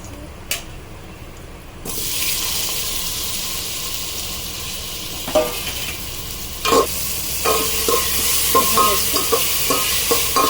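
Tomatoes cook in a pan for jackfruit biryani: after a quiet start, a loud, steady sizzle sets in, broken by scraping stirs and light clinks of a spoon against the pan.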